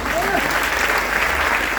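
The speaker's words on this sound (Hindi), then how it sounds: "एक बार उनके लिए जोरदार तालियां बजाइए" A burst of loud applause from a crowd, clapping steadily and close for the whole moment.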